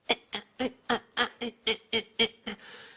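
A voice makes about ten quick, choppy bursts in a steady stutter, imitating a phone line cutting in and out, then trails into a soft hiss.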